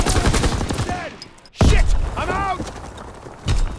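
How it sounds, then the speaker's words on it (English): Machine gun fire in Call of Duty WWII, with loud bursts of shots and heavy booms rising after a short lull. Talk and game voices run underneath. "I love this machine gun, that's me going ballistic."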